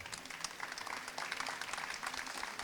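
Applause breaks out during a casual moms' group chat, a steady, moderately soft patter of clapping from a small group, continuous with no talk over it.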